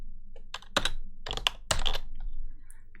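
Someone types on a computer keyboard while writing PowerShell code, producing close bursts of rapid key clacks separated by brief pauses, with no voices.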